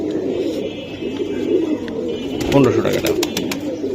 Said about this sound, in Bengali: এই যে একটা কবুতর, এটা ডাকতেছে।